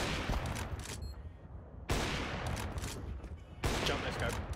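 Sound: sniper rifle no-scope gunshots in the video game Counter-Strike 2

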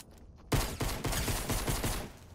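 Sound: gunfire in the video game Fortnite

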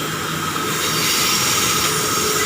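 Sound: passing district commuter train at speed

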